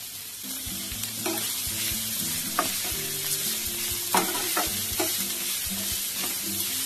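Garlic, grated ginger and chopped onion frying in hot oil, a steady close sizzle with intermittent stirring scrapes and occasional clicks, no voices.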